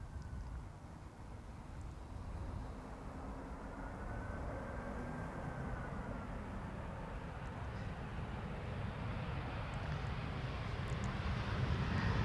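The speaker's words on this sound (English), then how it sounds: "This is EasyJet flight 22167 arriving from Chester." EasyJet airliner arriving at Schiphol from Chester, a steady broadband jet roar holding at a constant level throughout, with a faint engine whine riding over the rumble.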